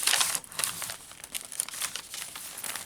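Lined paper being handled for a junk journal, giving close, crisp crinkling and rustling with soft tearing-like scrapes in irregular bursts throughout, no talking.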